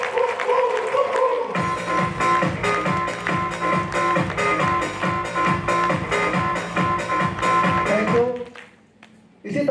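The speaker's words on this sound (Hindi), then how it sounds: "मैं चाहता हूँ सबसे एक बार जोरदार तालियां एक बार राइजिंग स्टार।" A large audience at a business gathering claps loudly in unison, a fast steady rhythm of strong synchronized claps lasting several seconds before stopping abruptly, with some background voices.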